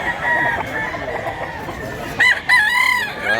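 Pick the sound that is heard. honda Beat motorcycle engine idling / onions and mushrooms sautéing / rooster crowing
rooster crowing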